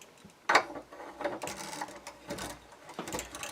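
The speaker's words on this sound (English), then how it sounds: "Got the nut screwed on, got a wrench on, recoil lug in place." A wrench turns the barrel nut on a Savage rifle action during re-barreling, giving a few close metallic clicks and scraping turns in quiet surroundings.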